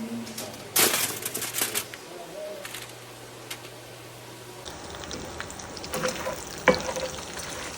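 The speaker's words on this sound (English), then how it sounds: "I have my 2 shallots minced up, and I'm adding it to the bacon drippings" Minced shallots go into hot bacon drippings for a Thanksgiving side dish, giving a soft, steady sizzling hiss with scattered crackles and a few sharp clatters of utensils.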